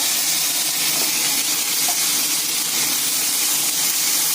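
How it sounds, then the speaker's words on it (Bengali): Cumin seeds and dried red chillies sizzle steadily in hot oil, a dense, even frying hiss that stays loud and close throughout with no voices. "তেলে জিরে আর শুকনো লঙ্কা দিয়ে দিয়েছি"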